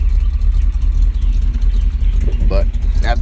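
A 1980 Chevrolet K10 pickup's engine idles low and steady right after a cold start, a continuous rumble with a brief voice near the end.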